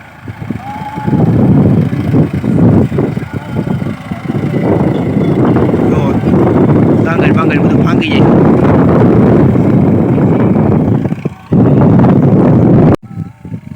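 Strong, gusty wind buffets the microphone in a constant low roar in a village guar field, with voices talking faintly underneath.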